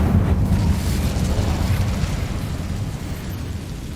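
Incendio fire spell cast in the Hogwarts Legacy video game, a loud roaring whoosh of flame that rumbles steadily for a few seconds and tapers slightly at the end, heard alone.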